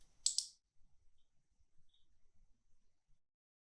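One crisp double click of a computer mouse on a select button in library cataloguing software, close and brief, followed by near silence.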